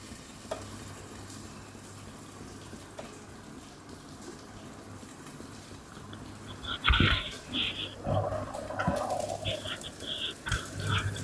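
An egg omelette frying in a pan, with a low quiet sizzle at first that gets louder and busier partway through, broken by short bursts of spattering and scraping.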